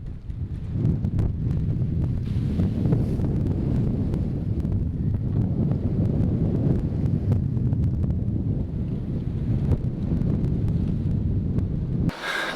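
Wind noise on the sails and deck of a sailboat sailing upwind on rough water in the Gulf of Tadjoura, Djibouti: a steady, loud rumbling buffet of wind blasts on the microphone, continuous throughout, with water and hull sounds beneath.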